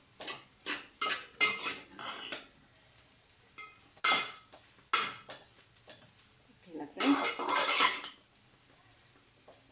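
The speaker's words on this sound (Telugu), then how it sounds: "మొత్తం మసాలా అంతా నూడిల్స్కి అంతటికి పట్టాలి. ఇట్లా కలుపుకుంటూ ఉండాలి." Vegetable noodles being tossed with masala in a pan, with repeated metallic clinks and scrapes of a utensil against the pan in short uneven bursts, close and fairly loud, with a light sizzle underneath.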